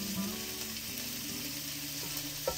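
Peppers frying in oil in a pan for Brazilian carne louca, giving a steady close sizzle and crackle with a few small pops, no voices.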